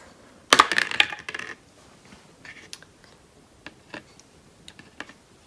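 Dice tumble onto a hard surface with a sharp rattling burst. A few scattered small clicks follow as they come to rest, and the room is otherwise quiet.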